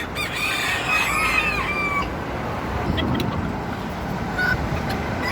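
Bantam chickens cluck and crow outdoors, with a rooster's crow early on and scattered clucks over a steady background noise that may include passing traffic.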